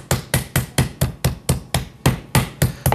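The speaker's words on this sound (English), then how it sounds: "when you pound your chicken, you just hammer it down and pull to create a bigger surface" Raw chicken is pounded flat for a roulade with a meat hammer, giving about eleven sharp, evenly spaced thuds in a steady quick rhythm, close and loud with no talk.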